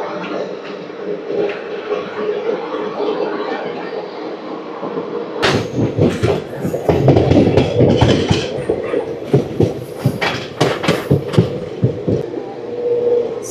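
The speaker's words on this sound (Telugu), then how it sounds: "నాయుడు గారి దగ్గర నుంచి కూడా మన ట్రైన్ స్టార్ట్ అయిపోయింది." The 12711 Pinakini Superfast Express pulls away and picks up speed, a steady low rumble giving way to louder rattling and rhythmic clatter of wheels over rail joints, with sharp metallic bangs and squeals close by.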